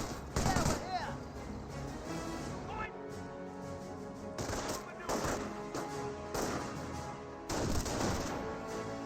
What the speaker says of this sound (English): MG42 finds a good angle there, suppressing both of those squads.